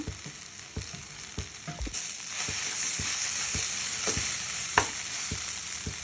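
Vegetables fry with chilli powder, sambar powder and garam masala in a pan for vegetable bath, a steady close sizzle broken by regular scraping stir strokes every half second or so, with the hiss swelling louder midway.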